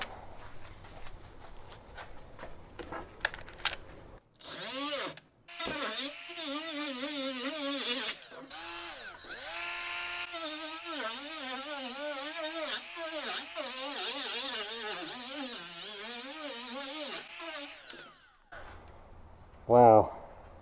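A Milwaukee M12 cordless die grinder with a 60-grit disc grinds metal on a VW Bus restoration, giving a close, wavering high-pitched motor whine that rises and dips under load for about thirteen seconds before cutting out.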